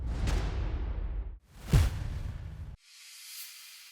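An impact sound effect for a melodic drum and bass track swells in with a rising whoosh, hits with a deep thump, then sweeps out into a thin hissy tail; synthetic and alone, with no voices.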